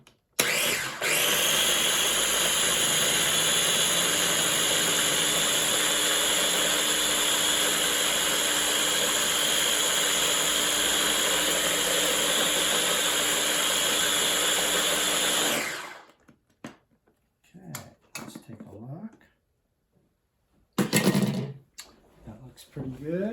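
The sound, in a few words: food processor blending ingredients for Vietnamese rice rolls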